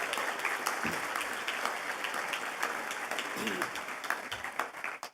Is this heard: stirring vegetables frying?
no